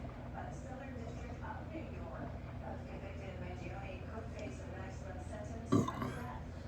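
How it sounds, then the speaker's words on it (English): A single loud burp erupts near the end, cutting through quiet background chatter and room noise. "After you burped loud."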